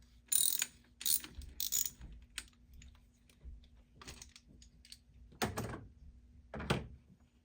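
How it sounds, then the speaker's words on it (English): A 10mm wrench or socket ratchets a nut off on a 2023 Porsche Macan 2.0L Turbo during a spark plug job, giving quiet clicking bursts in irregular spurts with a faint steady hum behind. "And now using either 10mm wrench or socket, you can remove the nut."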